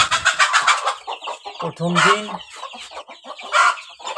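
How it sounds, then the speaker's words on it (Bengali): Hens of a native backyard breed cluck in short, repeated bursts close by, with a few louder drawn-out calls among them, while someone speaks briefly over the birds. "আর একটা মুরগি কিছু ডিম নিয়ে এখানে বসে রয়েছে"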